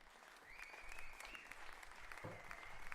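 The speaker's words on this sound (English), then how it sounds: "bit of applause here" A lecture-hall audience of students applauds after points are awarded in a university systems-programming class; the clapping is steady and fairly faint, spread evenly across the whole stretch, with a thin tonal whine running over it.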